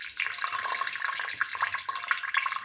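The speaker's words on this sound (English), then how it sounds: "Now pour in around 200 ml of water." Steady water pouring into a cooking pot with a bright, splashing rush that runs continuously without pause, close by and moderately loud.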